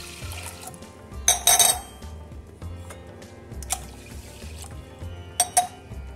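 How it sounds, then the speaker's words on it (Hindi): Water is poured from a vessel into washed lentils in a cooking pot, giving soft, close sloshing and splashing with a few sharper bursts, quiet overall and with no talk. "पानी डालेंगे।"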